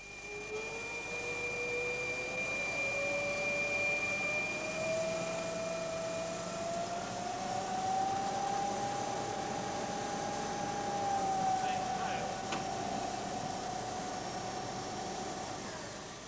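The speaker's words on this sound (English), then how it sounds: "This lathe was specially set up to show what can happen if you cut dry." Metal lathe cutting dry without coolant, a steady whining hiss with a slowly rising and gliding tone from the tool on the workpiece, constant and fairly loud for the whole stretch.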